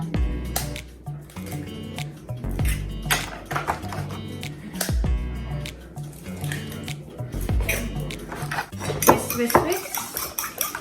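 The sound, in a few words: whisking eggs in a bowl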